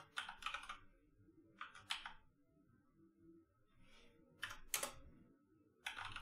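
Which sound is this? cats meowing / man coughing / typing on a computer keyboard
typing on a computer keyboard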